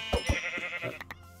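Sheep bleating in the Minecraft video game, with two quick, close, stuttering bleats near the start followed by softer bleats and a pair of short clicks, all alone without talk.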